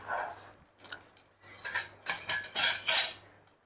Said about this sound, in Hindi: जीरा मेरा तड़कने लगा है